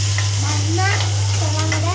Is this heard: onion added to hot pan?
yes